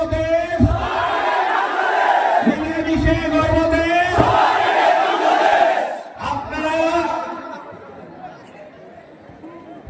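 Crowd chanting a political slogan at an election rally in Bangladesh, with many voices rising together in loud, rhythmic bursts close by, mixed with chatter.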